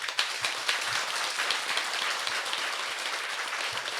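A temple assembly at a full-moon Buddhist service in Pyeongtaek claps together in a steady, dense wash of applause that holds evenly throughout.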